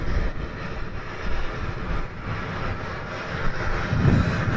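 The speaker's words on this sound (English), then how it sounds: "That aircraft just holding down the end of the runway" Jet airliner engines holding at the end of a Manchester Airport runway, a steady broad roar heard from a distance with a slight swell near the end, no talking.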